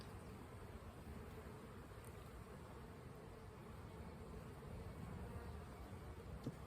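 Honeybees from a colony drone as a steady, dense buzz during a spring hive inspection, a continuous close hum with no talk and only a faint click near the end.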